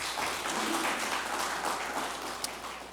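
A church congregation claps together to welcome a visitor during a Sunday service, a steady wash of applause that carries on throughout, moderately soft and slightly distant in the room.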